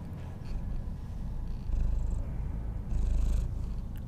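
A pet cat purrs close to the microphone in a steady, rhythmic rumble, swelling louder in two stretches, with no talk over it.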